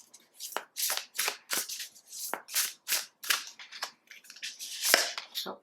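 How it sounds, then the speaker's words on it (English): Oracle cards from a Rose Oracle deck are shuffled and handled in a rapid series of close, crisp riffling bursts and flicks with short pauses between them. "now let's grab one card from the Rose Oracle."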